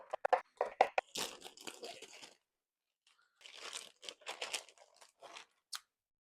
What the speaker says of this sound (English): Cilantro, I'm going to just rip out